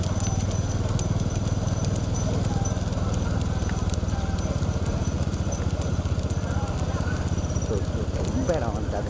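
Bulls pulling carts thunder past in a small-bull race at Thirupunavasal, with dense, steady hoof clatter and wheel rumble filling the clip under a continuous crowd and commentary din.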